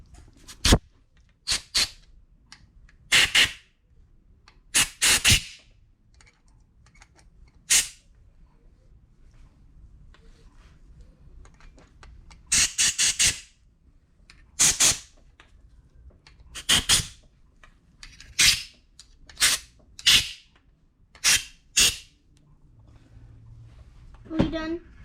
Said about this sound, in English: we just take our compressed air and we're gonna blow out all the little orifices in here